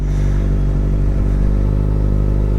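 A vehicle fitted with a new exhaust pulls away in first gear, giving a loud, steady, close engine drone that stays constant throughout with no voices.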